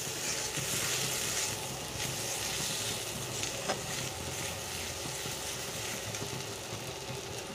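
A spice paste of cumin and coriander powder with salt sizzles and crackles steadily in hot oil for a Bengali fish fat curry, a continuous close frying hiss with no talking.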